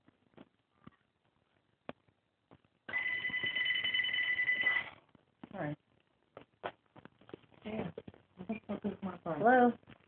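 A mobile phone rings with a sustained electronic ringtone burst, close and loud, after scattered soft knocks; a person then speaks nearby.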